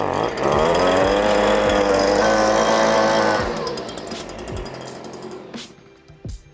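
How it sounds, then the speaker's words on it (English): A leaf blower roars steadily at close range as it blasts dust out of a truck's storage drawer, running loud for about three seconds before winding down and fading into lighter rattles. "just a leaf blower."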